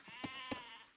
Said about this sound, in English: A bit unlucky sheep kill there for Knosper Bacon